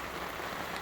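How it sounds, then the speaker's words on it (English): Steady rain falls at a campsite near Walcha, a soft continuous hiss of drops pattering on surfaces with no voices. "the rain is coming down"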